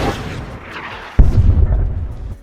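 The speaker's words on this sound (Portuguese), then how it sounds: "o Tony é atingido por um tiro de tanque de guerra" A tank cannon shell slams into Iron Man's armor in a movie scene: one sudden, loud booming impact with a heavy low-end thud that rumbles on after a quieter stretch of ambient sound.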